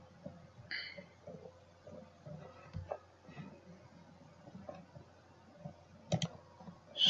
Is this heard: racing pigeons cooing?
no